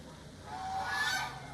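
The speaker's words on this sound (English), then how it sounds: "The geese's name is Bobby in Virginia, folks" A single goose honks, a drawn-out nasal call rising in pitch, heard at moderate distance outdoors on a cold October day with no talking.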